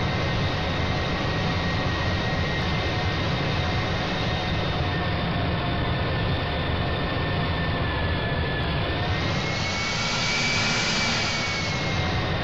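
Airliner jet engines taxiing in the GeoFS flight simulator at Dubai, a steady, loud, continuous whine and rumble with a slowly rising tone near the end, heard alone without talk.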